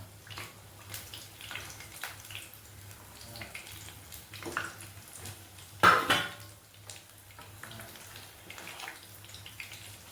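Tea-stall style bajji fritters fry in hot oil with a faint, steady bubbling sizzle, broken by one louder clatter midway.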